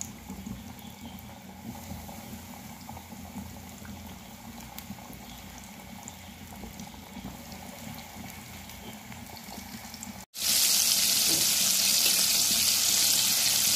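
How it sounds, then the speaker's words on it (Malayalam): Chicken dropped into hot oil for homemade broasted-style fried chicken, giving a soft low bubbling at first, then a sudden loud, steady, hissing sizzle that carries on close up with no voices. "ഇപ്പം നമ്മുടെ എണ്ണ ചൂടായിട്ടുണ്ട് അപ്പം നമ്മുടെ ആ ചിക്കൻ ഇതിലേക്ക് ഒന്ന് ഇട്ട് കൊടുത്ത് നന്നായി അങ്ങോട്ട് പൊരിച്ചെടുക്കാം"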